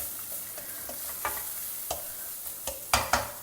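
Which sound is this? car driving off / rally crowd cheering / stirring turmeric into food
stirring turmeric into food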